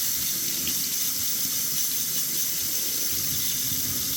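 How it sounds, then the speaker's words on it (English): Hot water runs steadily from a kitchen tap into a bowl, filling it to thaw chicken; a continuous close hiss and splash holds at an even level throughout with no talking. "Basically fill this with hot water so we can thaw the chicken."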